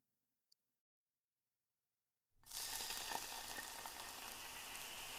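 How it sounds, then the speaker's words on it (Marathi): Crushed garlic hits a hot pan and sizzles steadily, the frying noise starting abruptly and continuing loud and even for several seconds, with a single small tick just before. "लसूण छान परतून घ्यायचं आहे."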